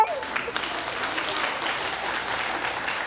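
Audience applause at a kindergarten music recital fills the room, a dense steady patter of many clapping hands that continues without pause, with a faint voice briefly heard at the start.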